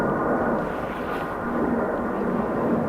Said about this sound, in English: Aer Lingus to Leon, making loads of noise